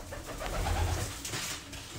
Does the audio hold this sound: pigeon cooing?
yes